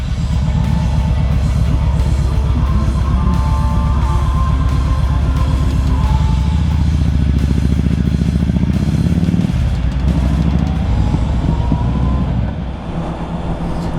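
A motorcycle roars loudly and steadily at close range on a ride to a covered bridge, its engine drone and wind rumble continuous throughout before easing slightly near the end.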